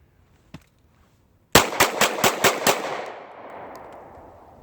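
Six rapid pistol shots from a compact Glock 26 at an outdoor range, fired in a fast even burst, loud and close, with a fading echo trailing after the last shot.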